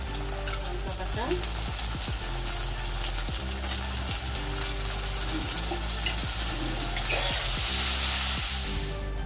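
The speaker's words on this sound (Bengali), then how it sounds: "এখন দিয়ে দেবো" Tomato paste fries in mustard oil with onions in a karahi on a gas stove, a loud steady sizzle with frequent scraping stirs that intensifies toward the end.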